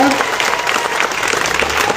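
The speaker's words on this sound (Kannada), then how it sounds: "ಅವ್ರಿಗೆ ಜೋರಾಗಿ ಒಂದು ಚಪ್ಪಾಳೆ" A crowd at a political speech breaks into loud, dense, continuous clapping close by, with voices mixed into the ovation.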